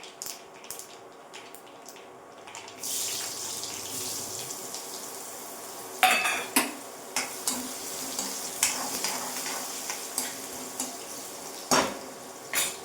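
Mustard seeds pop and crackle in hot oil while tempering a besan and radish-greens dish, with sharp intermittent snaps rising over a soft sizzle, the crackling starting about halfway through.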